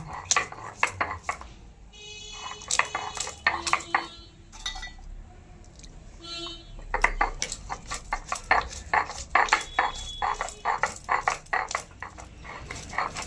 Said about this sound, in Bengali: এবার বাদামগুলো সব আমি বেটে নেব